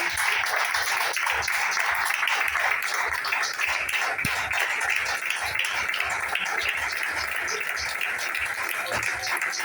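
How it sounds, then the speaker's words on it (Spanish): A church congregation claps loudly and continuously in a dense, sustained wash of hands, with a voice speaking over it throughout. "Hágale fuerte las palmas al Señor."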